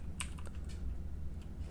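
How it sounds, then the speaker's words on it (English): Clicks from a computer keyboard in short, scattered bursts, quiet and close over a steady low room hum, with no voices. "So let's try typing in here."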